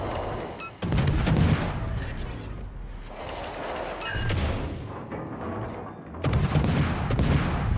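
Warship guns fire at a burning enemy ship in a naval video game, sounding as heavy booming salvos in several bursts with rumbling decay between them, loud and close, with no talk.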